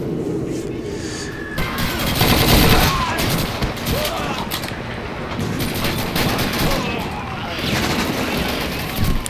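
Continuous rattling gunfire and explosive bursts from a Call of Duty 2 battle, loud and dense throughout, with a voice occasionally audible underneath.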